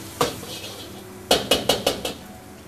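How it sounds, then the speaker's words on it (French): Chicken and shrimp going into a hot pan for Thai fried rice, heard as one metallic clank followed by a quick run of five sharp utensil knocks against the pan, close and clear over a faint kitchen background. "on rajoute le poulet et les crevettes"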